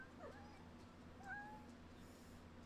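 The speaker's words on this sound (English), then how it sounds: "The kitten cries insistently" A kitten in a video game cries, a couple of faint, thin meows standing out briefly over a low, steady background hum.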